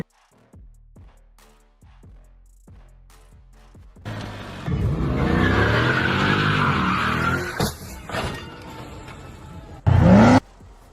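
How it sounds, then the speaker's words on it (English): A car brakes hard and its tires squeal in a long, wavering skid before it strikes the roadside, preceded by several sharp clicks and ending in a loud, brief impact burst. "The car braked, but still collided with the roadside."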